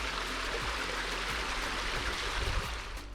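Ice-cold forest stream in Willamette National Forest on a hot day, a dense, close and steady rushing babble of water that fills the whole stretch without pause.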